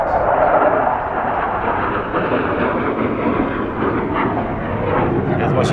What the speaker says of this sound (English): That was a jet passing over.